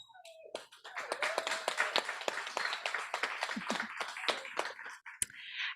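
An audience at a graduation ceremony bursts into applause, many hands clapping in a lively, dense patter with sharp individual claps standing out and a voice heard briefly.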